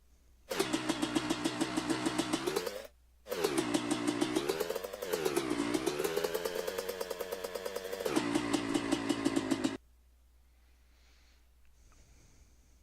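A motorcycle engine in the MX Bikes game revs in second or third gear through two loud sustained bursts that rise and dip in pitch, a short gap between them, then cuts off into quiet.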